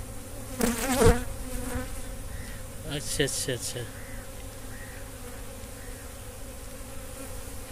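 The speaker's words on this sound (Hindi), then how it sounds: "अभी हम लोग खोज रहे हैं रानी मधुमक्खी" Honey bees buzz steadily at an open beehive during beekeeping, a continuous close drone running through the whole stretch, with someone talking briefly over it near the start.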